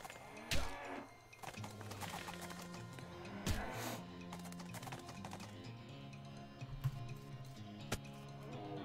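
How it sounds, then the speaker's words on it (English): Hell cows in the West of Loathing video game give several low, drawn-out moos amid game music, with sharp ticking and clicking effects over them. "Okay, hell cows hit pretty hard."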